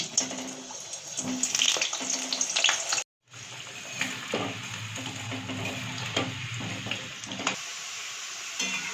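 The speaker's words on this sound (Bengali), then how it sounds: "তেলটা গরম হয়ে গেছে, এবার আলুগুলো দিয়ে দিচ্ছি।" Diced potatoes fry in hot mustard oil, a steady hissing sizzle with scraping stirs, cut off by a brief silent gap about a third of the way in before the sizzling resumes.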